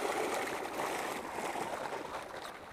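Icy spring water gushing from a fountain, a steady broad splashing rush heard close and continuous, with no voices.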